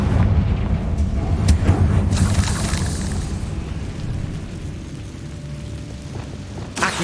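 Confringo blasting-spell explosions in the Hogwarts Legacy video game: a loud booming burst near the start, rumbling decay and debris, then another sharp blast right at the end, with no talking.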